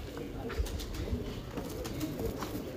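Multan champion pigeons cooing softly and repeatedly at close range, low murmuring calls over a steady background hum, with a faint voice now and then.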